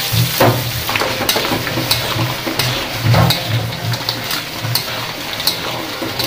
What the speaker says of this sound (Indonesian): Oke, kita goreng sampai garing ya.